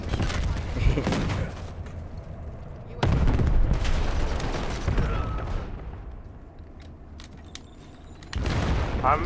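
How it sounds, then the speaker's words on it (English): Grenade launcher fire in a Call of Duty-style shooter, with several loud booming blasts at irregular intervals and gunfire crackle between them, set against a steady game soundscape with a voice talking at times. "I'm using a grenade launcher"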